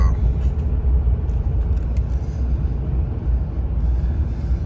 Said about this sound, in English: 2019 Ram 2500 Cummins turbo diesel that I bought brand new.